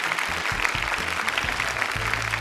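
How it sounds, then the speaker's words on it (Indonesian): Studio audience at an Indonesian Quran memorisation show claps steadily, a dense patter of many hands held at a constant level throughout, with music-like tones running underneath. "Tepuk tangan dong sekali lagi untuk dua peserta pertama kita"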